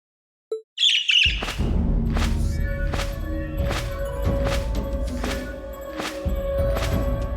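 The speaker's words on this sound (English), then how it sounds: "It's the bird I saw in the Capitol." Rianos the bird, from Trails of Cold Steel 2, gives a sharp squawking call that opens into a busy game scene full of repeated rhythmic swooshes, impacts and a sustained tone, loud and close throughout.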